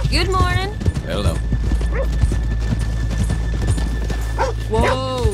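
Horses' hooves clip-clop steadily at a trot in Red Dead Redemption 2, with a horse whinnying near the start and again at the end, and people talking over it.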